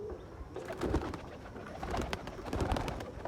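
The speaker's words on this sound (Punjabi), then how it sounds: "ਇਹਦੇ ਵਿੱਚ ਬਾਈ ਬਾਈ ਬਿੰਦਰ ਵਾਲੀ ਆ ਬੈਠੀ ਕਾਲੀ ਚੀਨੀ ਤੇ ਇਹਦੇ ਨਾਲ ਹੀ ਬੈਠੀ ਹੈ ਮਦੀਨ ਬਾਈ ਵਾਲਿਆਂ ਚੋਂ" Black Chini pigeons cooing nearby in a loft, soft repeated throaty coos over a steady background hum, no speech.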